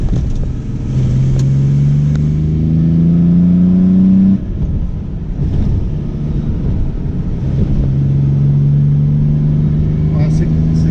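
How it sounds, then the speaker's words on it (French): A Jaguar XJ6 converted to triple SU carburettors revs up loudly nearby, its engine note climbing steadily for several seconds before dropping back to idle, then rising again in a second shorter rev, with wind buffeting the microphone. "Faire une petite accélération"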